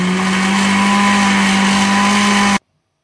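Kitchen blender crushing ground chili pepper and condiments for an okra sauce, a loud steady motor whir with a strong hum, running alone before cutting off abruptly near the end.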